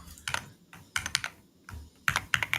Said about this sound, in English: I'm super awesome at typing, by the way.